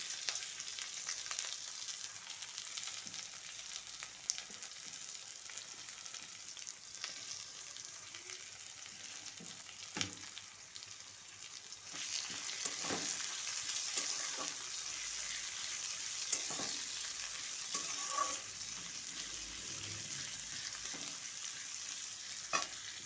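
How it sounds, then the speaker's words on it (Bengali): Two medium chopped onions fry in oil tempered with nigella seeds, producing a steady close sizzle with occasional stirring scrapes and taps throughout. "পেঁয়াজটা ভাজা হতে থাকবে"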